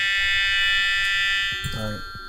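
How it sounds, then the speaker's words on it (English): A fire alarm blares with a loud, steady high-pitched tone that fills the room, and a person starts speaking under it near the end. "Alright, that's the fire alarm."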